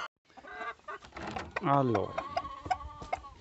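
Hens cluck and squawk close by in a series of short calls as they are let out of their coop, with a person speaking briefly over them.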